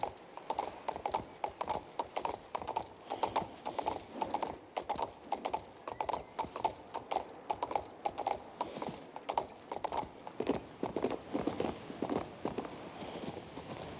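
Steady, rapid hoofbeats from a horse ridden at a normal quick pace in the video game King's Bounty II, a continuous clip-clop rhythm with faint mechanical clicking underneath and no talk.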